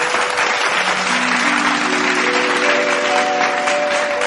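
Audience applause greets a singer arriving on stage at a live devotional music show, a dense, steady clapping from the crowd that holds loud and even throughout, with a sustained musical tone underneath.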